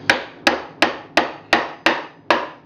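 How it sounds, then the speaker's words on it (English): Two-inch galvanized nails hammered through pre-drilled holes into a wooden bee hive box: seven sharp, evenly spaced hammer blows, each a crisp close whack with a short woody decay. "I'm just nailing through."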